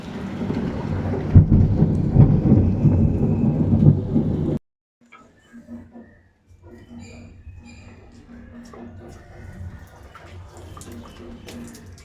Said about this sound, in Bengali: এখানে এখন বৃষ্টি চলে এসেছে, তো দেখা যাক কতক্ষণ বৃষ্টিটা হয়।